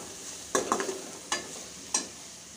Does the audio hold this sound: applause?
no